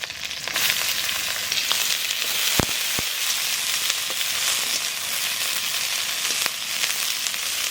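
Onions sizzle and crackle steadily in hot oil with nigella seeds and green chilies, with a few sharp pops and clicks from utensils breaking through the frying hiss.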